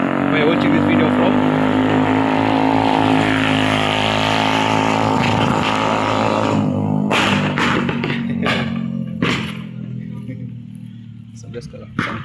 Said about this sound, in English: motorbike guy. We call them boda bodas, making a lot of noise right now.